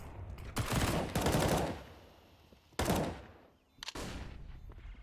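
Bursts of SMG fire from a Counter-Strike match on the Inferno map come in several quick, fairly quiet volleys separated by brief gaps.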